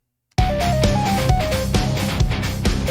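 A synth lead built in Arturia Pigments to recreate the riff from a song plays a stepped melodic line over a dense, driving full mix with steady beats. It starts abruptly after a brief silence and stays loud, with no voices.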